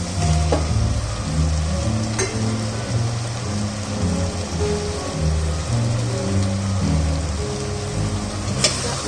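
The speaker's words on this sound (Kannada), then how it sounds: "ಇದು 1-2 ನಿಮಿಷ ಹೀಗೆ ಫ್ರೈ ಮಾಡಬೇಕು" Mushrooms sizzling and frying in a hot oily masala for a mushroom biryani, a steady close crackle with occasional stirring clinks, no talking.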